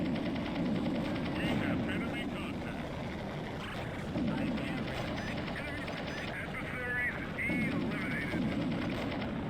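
Enemy helicopters in the video game Urban Assault, a continuous droning rotor and engine noise with rhythmic whirring sweeps, steady and loud throughout, mixed with game effects and a voice talking over it.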